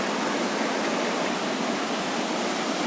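The flooded Ravi river rushes as a dense, loud, unbroken roar of water, steady and close with no other sounds standing out.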